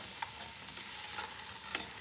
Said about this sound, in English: I'm going to add my potatoes. And I'm going to stir them in.